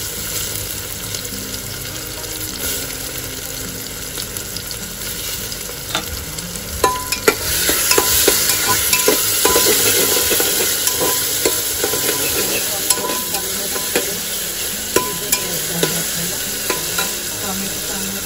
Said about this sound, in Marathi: टोमॅटो चांगल्या प्रकारे शिजवून घ्यायचं आपल्याला।